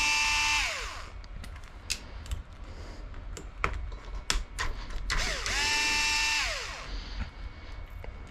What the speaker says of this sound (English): So you've got 4 screws you need to undo.